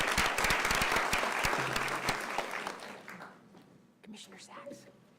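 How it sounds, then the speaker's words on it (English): A burst of clapping at a county commission meeting rings out loudly, then fades away over a few seconds as a voice starts speaking near the end. "Let's give another round of applause to these amazing entrepreneurs."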